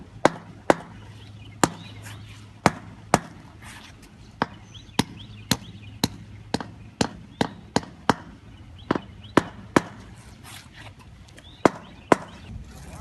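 Wedge anchors being hammered into drilled holes while a 5-panel high AquaClimb climbing wall is installed: a steady series of sharp metallic strikes, about two per second, close and loud, with no talk.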